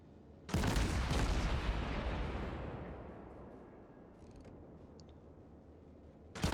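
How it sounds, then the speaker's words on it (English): A loud naval artillery volley in World of Warships booms out at once, then rolls into a long fading rumble, and another blast starts right at the end. "I think this volley is going to finish it"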